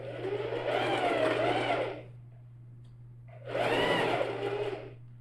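Two short bursts of a sewing machine stitching a backpack, each lasting about two seconds with a whirring motor, separated by a quiet pause, close and without talk.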